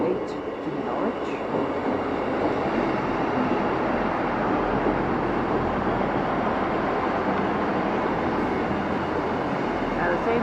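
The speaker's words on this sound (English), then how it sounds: "next train to arrive in is a double 158 to Norwich" A double Class 158 diesel multiple unit pulling into Warrington Central station, a steady loud rumble of engines and rolling wheels holding throughout, close by with no break.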